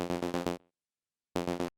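A short synth line from a tech house sample pack plays as two brief rhythmic bursts of bright plucked chords separated by a moment of silence, no talk.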